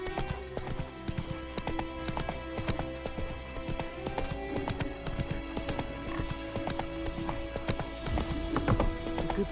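Horse hooves clip-clopping steadily on the ground in The Witcher 3, a brisk continuous trot close by with faint game ambience behind.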